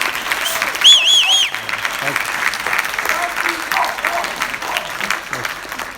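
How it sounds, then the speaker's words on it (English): A small crowd claps steadily for several seconds, with a brief whistle near the start and murmuring voices underneath. "Big round of applause to Ken for live stream."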